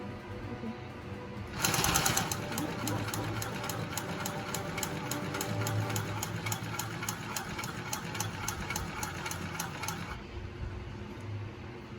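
A Fusion high post sewing machine stitches through leather in one continuous run of about eight seconds, its needle hammering rapidly and evenly over a motor hum, then stops and leaves a quiet room.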